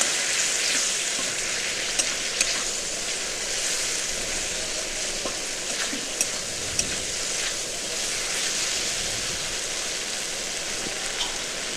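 Spice paste sizzles steadily in a pan, a constant crackling hiss with occasional soft scrapes of a spatula, fairly quiet and without voices.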